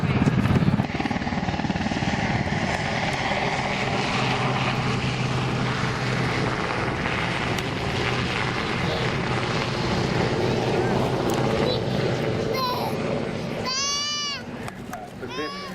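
A helicopter flies at an air show, its steady loud rotor and engine roar filling the whole stretch, while a commentator speaks over a public address system throughout.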